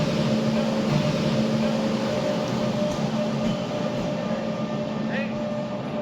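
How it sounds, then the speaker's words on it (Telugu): The Manuguru Superfast express pulls into Kothagudem railway station, a steady loud rumble of train wheels and carriages rolling along the platform with a sustained hum and a faint squeal near the end. "మరి మనుగూరు సూపర్ ఫాస్ట్ రానే వచ్చింది."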